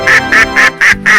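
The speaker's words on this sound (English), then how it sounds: "A duck." A duck quacks five times in quick, evenly spaced succession, loud and close, with nothing else in the background.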